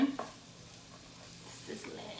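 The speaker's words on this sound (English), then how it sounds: "Sizzling." Soft, quiet sizzling of chopped onion in a frying pan with a faint stir or clink, low and steady throughout.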